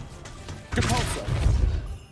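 Depulso force spell cast in Hogwarts Legacy, a sudden heavy whooshing blast with a thudding impact that swells and lingers for about a second before fading.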